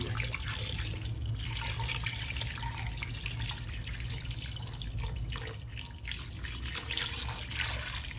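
Steady rushing water pours into a pot of pork sinigang with guava, running continuously throughout, a full close pour with gurgling splashes and no voices.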